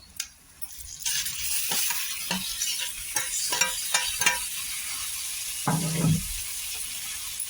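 Tomatoes go into a pan of fried spiced masala for tomato chutney, bringing a steady sizzle broken by a series of scraping stirs and clinks of the spoon against the pan, ending in a louder thump.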